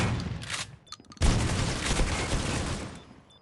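Video game gunfire erupts in a dense burst of rapid shots, a short lull, then a heavy sustained volley with explosive booms that gradually tapers off.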